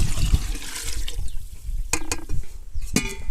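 Jaggery water poured into a large liquid farm mixture made with buttermilk: loud, close splashing and gurgling with a few sharp knocks from the container, and no talk.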